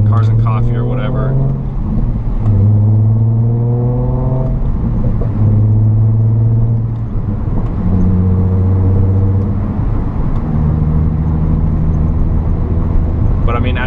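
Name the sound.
Nissan 350z with Tomei exhaust cruising in sixth gear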